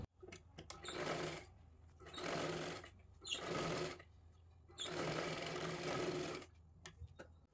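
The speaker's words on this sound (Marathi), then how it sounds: "आता इथे आपल्याला ह्याच्यावरती अजून एक डबल शिलाई मारून घ्यायची आहे" A sewing machine runs a double seam on a 40-size katori blouse in four steady bursts of fast mechanical stitching, each lasting one to two seconds, separated by short pauses with faint clicks.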